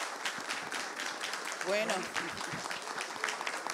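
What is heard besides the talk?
audience applause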